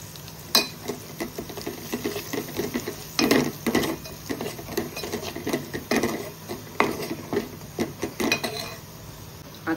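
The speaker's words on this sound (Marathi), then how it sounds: "आपण त्याच्यामध्ये आता जे मसाले घेतलेले आहेत ते टाकूया" Spices stirred into a cooked masala paste with garam masala and salt in a pan, heard as repeated close scrapes and clinks of a spoon against metal over a soft sizzle, with irregular bursts of stirring and no speech.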